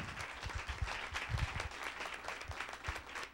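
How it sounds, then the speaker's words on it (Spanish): A steady round of applause from a crowd at a general assembly in Quito, dense clapping throughout at moderate volume. "Un fuerte aplauso, por favor, para Álvaro"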